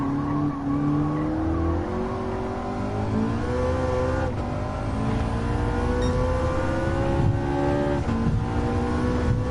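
A Mazda RX-7 race car in Gran Turismo 7 holds a loud, continuous engine drone whose pitch climbs steadily through the gears, with faint tire squeal mixed in.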